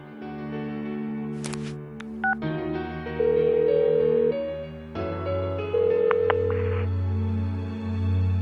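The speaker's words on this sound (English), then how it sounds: "Give her another call." A phone dialing a call in the game Persona 4 Golden, a run of clear electronic keypad tones in uneven bursts, each beep sustained before the next, with no voices.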